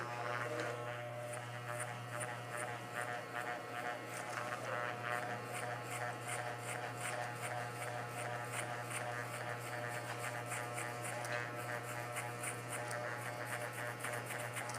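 Steady electric buzz and hum from a barber's hair clipper set to 0.50 during a high fade, constant and close with a faint rhythmic ticking through the cut.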